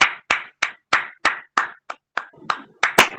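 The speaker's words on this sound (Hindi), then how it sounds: "हम सभी सुंदर से आराधना के लिए जोरदार तालियां बजाते हैं।" A church congregation claps loudly in unison, about eleven sharp, evenly spaced claps roughly a third of a second apart, each ringing briefly in a reverberant hall.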